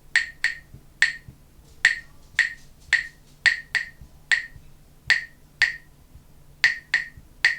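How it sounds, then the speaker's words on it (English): Crisp, sharp claps in a syncopated rhythmic pattern with dotted quavers in compound time, some in quick pairs and others spaced out, close and clear with no talking. "let's try clapping this rhythm together"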